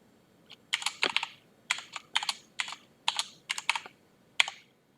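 Keystrokes on a computer keyboard as an admin password is entered while installing an operating system on a Raspberry Pi: several quick, close clusters of crisp key taps with short pauses between them, no voices.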